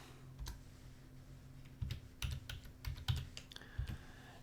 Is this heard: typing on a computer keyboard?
yes